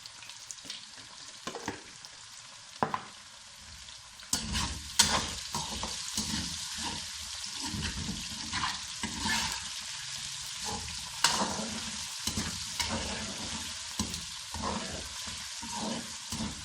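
Eggplant and potato pieces fry lightly in a pan with turmeric and red chilli powder, a steady soft sizzle broken by repeated scraping stirs of the spoon, close and moderately loud with no talk.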